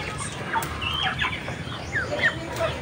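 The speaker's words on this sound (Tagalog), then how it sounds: "Sugod natin yung ating Rhode Island na barako at saka yung native na inahin." A Rhode Island rooster and a native hen on a small farm cluck and squawk in short, close bursts, several quick calls overlapping against light background noise.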